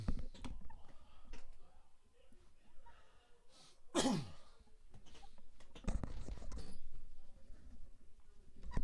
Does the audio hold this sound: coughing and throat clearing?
yes